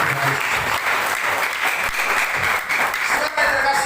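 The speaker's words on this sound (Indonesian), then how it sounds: "Beri tepuk tangan yang terbaik." Loud, dense applause from a church congregation during a service, steady and sustained throughout with scattered voices mixed in.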